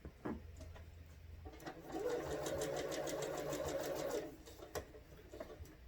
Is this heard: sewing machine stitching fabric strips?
yes